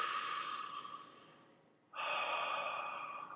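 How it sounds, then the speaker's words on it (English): A man breathes slowly and deeply through the belly, one long airy breath that fades out, a short pause, then another steady breath begins, close to the microphone. "when I'm breathing through the belly"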